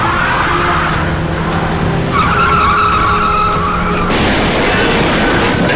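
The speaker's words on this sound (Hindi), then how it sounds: "कैसे चलाते हैं ये लोग गाड़ी?" A car driven wildly, its tyres skidding and squealing in long sweeping screeches over engine noise, loud and close, with a rougher burst of noise toward the end.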